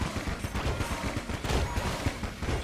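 Dense bullet fire from the video game Enter the Gungeon: a rapid, continuous barrage of overlapping shots, loud and sustained throughout without a break.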